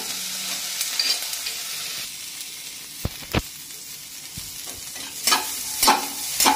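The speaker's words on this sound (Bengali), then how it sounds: "ক্যাপসিকামগুলো, একটুখানি বাটার বাটার করে ভেজে নেব" Capsicum fries in a little butter with a constant crackling sizzle, punctuated by sharp clicks and scrapes of stirring against the pan, close and without speech.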